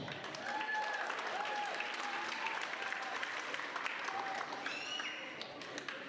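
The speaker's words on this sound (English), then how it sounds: "So another round of applause." Audience applause at a graduation ceremony, a steady wash of many hands clapping from a distance in a large hall, with faint whistles or cheers riding over it and a voice briefly audible.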